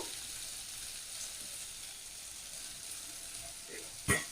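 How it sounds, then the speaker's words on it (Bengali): Ash gourd peel frying with turmeric and salt in a pan gives a faint, steady sizzle, with a brief scrape or clatter near the end. "খোসাটা ভালোভাবে ভেজে নেব"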